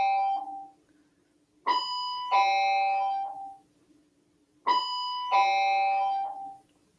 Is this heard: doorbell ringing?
yes